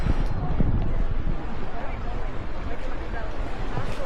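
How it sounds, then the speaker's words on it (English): Wind buffeting a camera microphone on the Paphos sea front, a loud, rumbling low roar that gusts and flutters steadily throughout, close and unbroken. "There's a bit of wind there."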